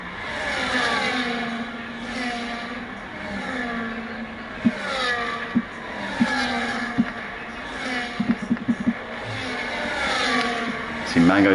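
F1 race cars in the game F1 25 at the Australian circuit, a train of five cars whose engines whine and rise and fall through gear changes, with sharp clicks of shifts, under steady commentary.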